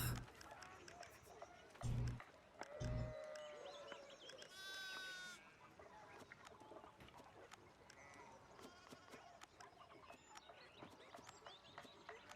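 Sheep bleating in the video game Pentiment, several wavering calls in the first few seconds over a busy background of rustling and clatter.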